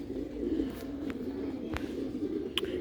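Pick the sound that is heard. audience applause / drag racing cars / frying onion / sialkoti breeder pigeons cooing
sialkoti breeder pigeons cooing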